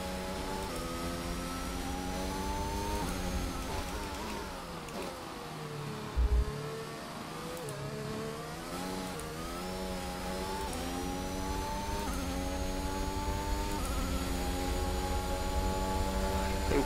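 A Formula 1 car from the F1 2021 video game drives in heavy rain, its engine note rising and falling steadily through gear changes, loud and continuous, with a brief low thump near the middle.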